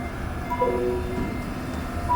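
Interior of a REM light metro train running between stations: a steady rolling rumble with faint tonal whines and brief beeps, with no talking.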